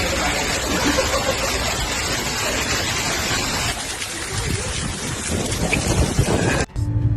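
Heavy rain pours in a thunderstorm over Sydney, a dense, roaring hiss of rainfall with low rumbling and wind buffeting, loud and continuous before a brief dropout near the end.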